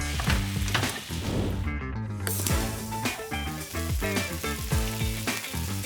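Cumin seeds crackle and sizzle in hot oil as the first step of a paneer matar curry, a loud, dense, continuous frying hiss with scattered pops and faint background music, steady throughout.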